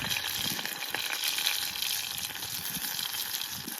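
Crushed onions drop into sesame oil already crackling with cumin tempering for a village-style country chicken rasam. The result is a loud, dense, continuous hiss and sputter, close by and without talk.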